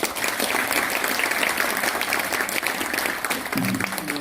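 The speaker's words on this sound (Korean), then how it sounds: "다시 한번 뜨거운 박수 부탁드립니다" Warm, sustained applause fills the hall at a graduation ceremony for the Eulji University merchants' graduate school, even and close throughout, with a faint low voice near the end.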